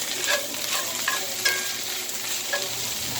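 Vegetables searing in a pot for chicken pot pie, a steady close sizzle with a few light scraping stirs against the pot.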